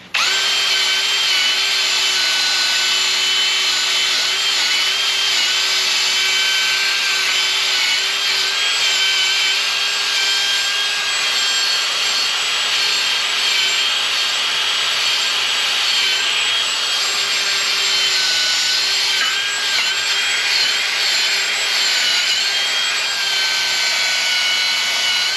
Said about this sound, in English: Just a real basic cut brush wheel on the grinder, on the drill. Set that bad girl to drill and just start wire wheeling.